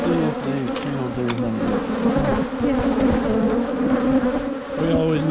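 Honey bees swarm and drone at a farm hive, a dense, steady buzz of many insects close by, with a few individual bees flying past and no talking over it.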